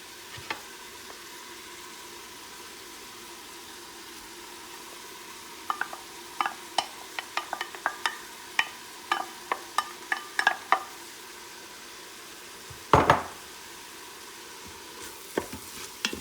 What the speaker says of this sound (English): Alright, so now that the onions have cooked down some, I'm gonna go ahead and add the ginger and garlic.